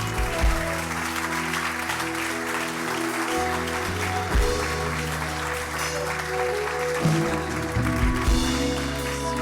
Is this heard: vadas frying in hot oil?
no